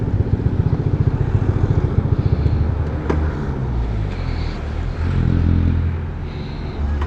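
A Honda Click i125 scooter engine runs while riding: a steady, loud buzzing drone with a throbbing pulse early on, a brief clatter midway and a swelling surge near the end, carried over continuous road and wind noise.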